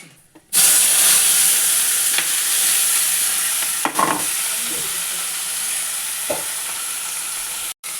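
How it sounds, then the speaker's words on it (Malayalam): Mustard seeds splutter and crackle in hot oil, a loud steady sizzle with occasional sharper pops, close by. "കടു ഇട്ട് കൊടുക്കട്ടോ കടു കൊട്ടട്ടെ"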